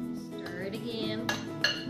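Utensil clinks and scrapes against a bowl while Guatemalan guacamole is stirred, a few close, light chinks over a soft steady background.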